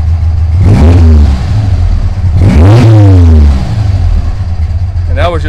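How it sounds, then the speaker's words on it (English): An air-cooled VW Beetle engine revs up sharply three times in quick succession, loud and close, dropping back to a rough idle between blips. "that was just baby revs."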